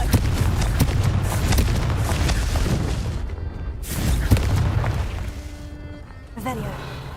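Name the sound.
Confringo blasting spell explosion from the Hogwarts Legacy video game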